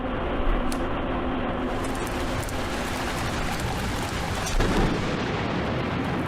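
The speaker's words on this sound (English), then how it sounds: "Lightning struck in the forest." Thunder from a lightning strike in a forest in the Minecraft video game: a dense, continuous rumbling roar with brief sharper cracks near the start and again later, steady and loud throughout.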